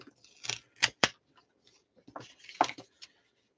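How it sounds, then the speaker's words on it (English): Old adhesive being peeled up by hand from a surface in a craft space: a string of short, crackly tearing bursts, several sharp pulls close together, then pauses and a few more rips, close and fairly quiet with no talking. "I'm going to peel this up."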